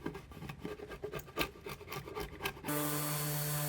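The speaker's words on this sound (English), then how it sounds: "Then I sanded down the inside with 120 grit" Sandpaper of 120 grit rasps back and forth across a red oak board in a string of close, rhythmic rubbing strokes, then a steady hum takes over near the end.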